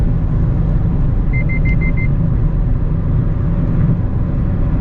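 Steady low road rumble and tire roar fill the cabin of a Mazda Miata, with a faint airy hiss of wind and a brief short series of beeps midway.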